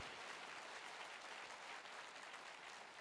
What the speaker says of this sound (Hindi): मैं चाहूंगा जोरदार तालियां हो हमारे गुरुजनों के लिए